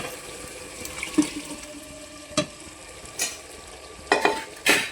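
Water is poured into a pan of chickpea curry (chhole masala) with a few splashy bursts and some stirring over a steady frying hiss, close by, with no talking.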